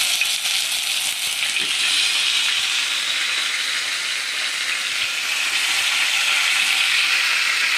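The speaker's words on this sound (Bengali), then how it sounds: "এটা একটু এখন খালি মাংসটা ভেজে নেব, একটা একটা করে মাংস দেবো" Chicken pieces for a lemon chicken curry fry in a pan, a steady bright sizzling hiss that holds evenly throughout without any talk.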